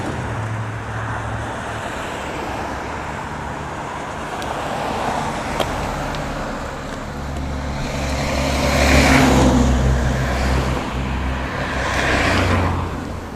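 Cars pass along a city road in snowy weather, a steady traffic roar with vehicles swelling closer around the middle and again near the end, no talking.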